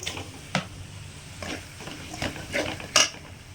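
Chopped tomatoes go into a pan of masala for poori, with soft sizzling and several spoon scrapes and metallic clinks spread across a few seconds. There is no talk.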